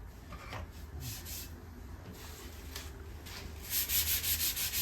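Hand sanding on a steam bent wooden shelf previously finished in golden oak gives faint, close rubbing strokes, quiet and irregular at first, then a run of quicker, louder rhythmic passes near the end.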